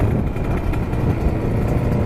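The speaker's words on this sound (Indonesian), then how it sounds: "Tapi ini motor jengat-jengat sekali ya guys." A two-stroke motorcycle engine runs with a rough, continuous sputtering drone, loud and close, holding a fairly even level through the short stretch with no talking.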